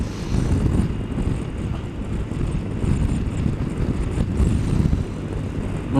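Wind roars steadily against the microphone on a cold, blustery motorbike ride, a constant loud rumbling buffet with no pauses.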